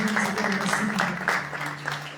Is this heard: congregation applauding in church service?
yes